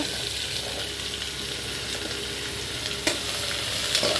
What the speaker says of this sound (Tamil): இப்போ இந்த மாதிரி பொறிஞ்சு வந்தோடனே வெங்காயம் சேர்த்துக்கோங்க